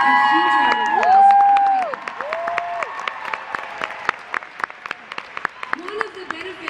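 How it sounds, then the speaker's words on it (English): Concert crowd at a show in Washington, DC cheers and whoops loudly at first, then scattered claps and shouts linger as the noise thins out. "So give yourselves a huge round of applause."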